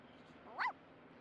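A dog in The Sims 4 gives a single short, high yip or bark, faint and brief against a quiet game background.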